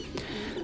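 Thai Titan meat pigeons coo in a loft, a low soft burbling call rising briefly over steady background noise, close and brief.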